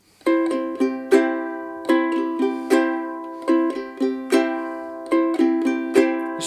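Ukulele strummed in a swinging triplet rhythm, bright plucked chords repeating in short bursts with clear gaps, close and moderately loud.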